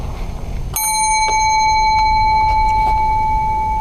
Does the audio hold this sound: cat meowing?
no